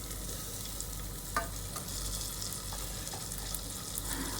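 Half-chopped tomato frying in a pan for chicken pulav, a faint, steady low sizzle with a few soft clicks of a utensil, quiet and without voices.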